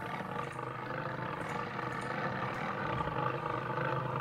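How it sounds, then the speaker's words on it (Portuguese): A lion roars in the Wildlife Park 2 video game, a steady low rumbling growl held at moderate level throughout, with no talk over it. "Nossa, sai daí, leão. Leão, para de fazer barulho, velho."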